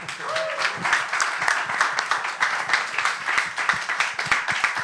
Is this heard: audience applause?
yes